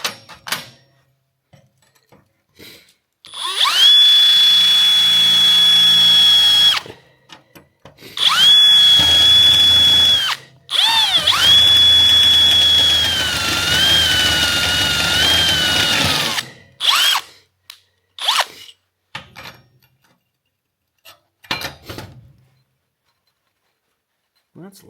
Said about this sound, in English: All right, so we're gonna get it drilled now.